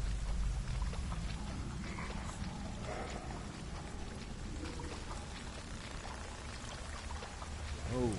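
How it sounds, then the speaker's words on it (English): Wading through murky water in Hellblade: Senua's Sacrifice, a continuous low sloshing and churning of water with faint splashes, steady and moderately quiet, ending in a brief swirling gurgle. "Trudging through this murky water here."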